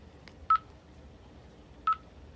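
Two short telephone touch-tone dialing beeps, spaced about a second and a half apart, sound clearly over a faint background hiss during a phone call, with no talking.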